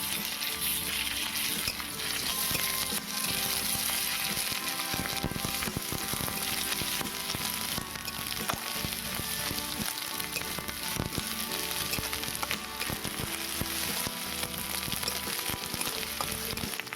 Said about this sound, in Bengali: দিয়ে ভালোভাবে নাড়াচাড়া করে একটু লাল লাল করে ভাজা করে নেব